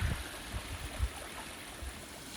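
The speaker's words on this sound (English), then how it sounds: "We have a really pretty little waterfall here" A small waterfall runs across an Appalachian Trail hiking path, giving a steady, faint wash of flowing water with a few low gurgles and thumps, heard alone from a short distance.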